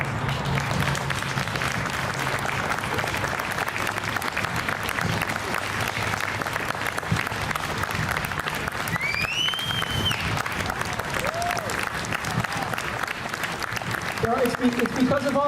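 Sustained applause from a Memorial Day ceremony crowd honoring veterans, a steady roar of many hands that holds evenly throughout, with faint voices and a brief high whistle-like tone partway through.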